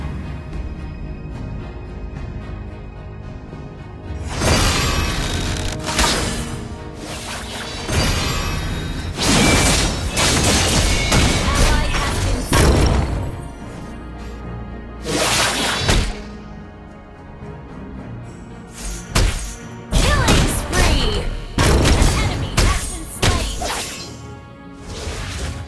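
Turret under attack in a game match featuring Edith's Red Bastion collector skin, with repeated bursts of crashing impacts, smashes and whooshes in clustered volleys, loud and close, separated by brief lulls.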